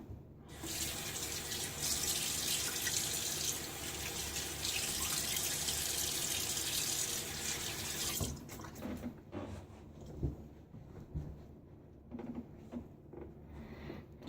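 Tap water runs steadily into a bathroom sink for about eight seconds while a razor is rinsed during a wet shave with a badger lather brush, then stops, leaving scattered drips and small clatters.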